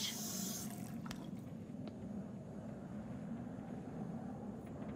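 Water runs steadily from a tap into a fancy lodge's plumbing in Until Dawn, a faint continuous hiss and splash with a few soft knocks, heard alone.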